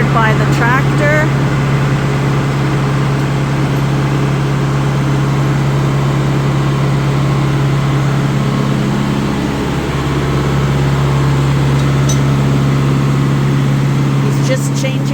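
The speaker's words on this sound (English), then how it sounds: "So that's our generator. It's powered by the tractor." A tractor-powered generator on a sheep farm runs with a steady, loud low hum and drone that holds unchanged throughout, with people talking over it.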